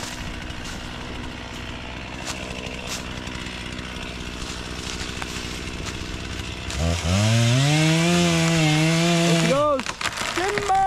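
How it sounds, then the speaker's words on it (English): A chainsaw cuts down one of the last trees on a property being cleared, a low steady rumble at first, then a loud close whining rev with sweeping pitch from about seven seconds before it cuts off; a voice speaks briefly. "we are out here cutting down the last 2 trees before prep work starts. So Dad's up cutting them."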